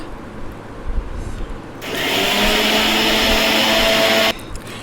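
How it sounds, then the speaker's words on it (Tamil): Electric mixer grinder jar grinding herb leaves with water, switching on abruptly to a loud, steady high-pitched whirring motor whine that runs for a few seconds, then cuts off sharply. "இப்போ மிக்சி ஜாரில் போட்டு நல்லா மூடி போட்டு நல்லா வந்து உங்களுக்கு எந்த அளவுக்கு நைஸாக அரைக்க முடியுமோ அந்தளவுக்கு நல்லா நைஸாக எடுத்துகிட்டு வந்துடுங்க"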